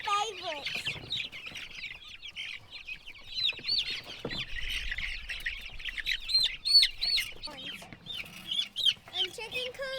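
Young chicks out on pasture for the first time chirp and peep steadily in a busy, overlapping chorus, with occasional clucks and rustling nearby.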